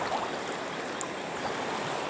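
Seawater at a beach in the morning gives a soft, steady wash and light trickle, faint and continuous with no voices.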